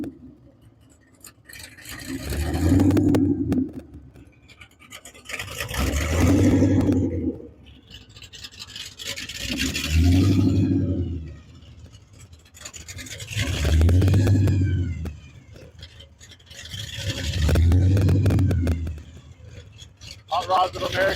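A hot rod engine is revved in five slow, evenly spaced swells, each rising to a rough, gravelly roar and dropping back to a low idle, close by.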